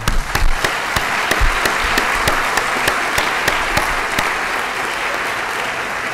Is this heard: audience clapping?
yes